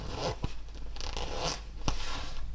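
A men's winter jacket zipper is opened with close, quick zipping strokes that rasp in short bursts, with a couple of sharp tugs and light handling noise between them.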